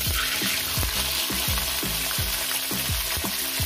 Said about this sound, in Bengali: এবার এঁচোড়গুলো আমি আলুর মতনই লাল লাল করে ভেজে নেব